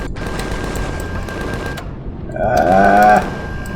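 Ship weapons fire in Empyrion, the space video game, with a rattling stream of shots over engine hum. A brief lull follows, then a louder tonal whine and burst near the end.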